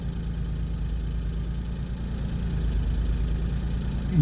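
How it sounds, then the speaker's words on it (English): A Smart Fortwo 451 MHD engine idles steadily, a low, even rumble with a faint regular pulse, close by and continuous with no talk. "as the engine is running"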